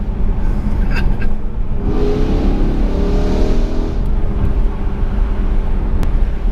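A BMW M3 with a modified, very loud exhaust revs hard nearby, the engine climbing into a strained roar before dropping back to a rumbling idle, heard alone.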